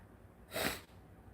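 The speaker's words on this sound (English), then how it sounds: "Sorry to be sniffling all these last videos." One short, close nasal sniff, a quick breathy rush through the nose against near silence.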